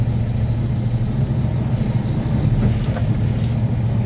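A truck rolling slowly ahead at about 5 mph during a brake check, a steady low engine drone with a faint rattle, constant and close.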